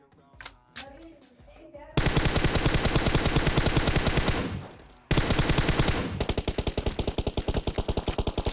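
M762 assault rifle fired in full-auto in a battle royale shooting game: after a few faint sounds, long loud rapid bursts of close gunfire, a brief pause, then another sustained burst that ends in slightly spaced shots.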